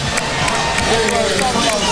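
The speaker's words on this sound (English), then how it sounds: "Applauding for both teams." Large arena crowd at a 2009 Syracuse versus Connecticut college basketball game applauds and cheers in a dense, continuous roar of clapping and voices, loud and close throughout.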